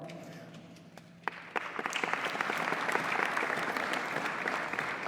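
An audience at a bill enrollment ceremony bursts into applause and cheering, starting with a few claps and swelling into sustained, moderately loud clapping that continues to the end.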